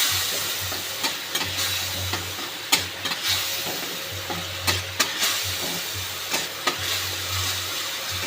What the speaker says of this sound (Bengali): এবার এটাকে আমি কষে নেব।